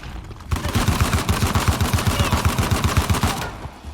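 Sustained automatic bullpup rifle fire in Uncharted: The Lost Legacy, a rapid, steady stream of close, loud shots lasting about three seconds before cutting off, with no talking.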